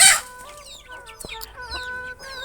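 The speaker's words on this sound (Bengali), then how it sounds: "এই মোরগটা কীরকম যেন একটা আলাদা জাতের মোরগ" A tall, heavy rooster of an unusual breed clucks and calls repeatedly at close range, with other chickens chattering in the background and no talk.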